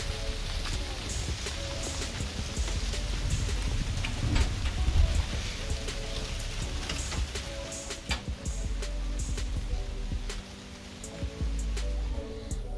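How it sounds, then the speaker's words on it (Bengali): Rain falls steadily in Baruipur on a monsoon day, a dense continuous hiss with scattered drip ticks and a low hum running underneath, with no clear voices. "বৃষ্টি পড়ছে"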